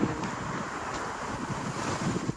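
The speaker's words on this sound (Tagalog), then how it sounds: "Hangin." Steady wind gusting across an open microphone, a dull continuous rumble with low buffeting thumps throughout, no voices.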